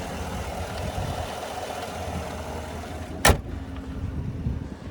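A 2017 Chevrolet Tahoe Premier's naturally aspirated 5.3 liter V8 idles with a steady, low rumble heard near the open hood, broken once by a single sharp click.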